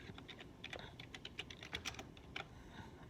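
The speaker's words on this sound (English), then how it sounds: "Typing with one hand is hard." Quiet, close clicking of a computer keyboard typed with one hand, an uneven run of soft key taps with short gaps.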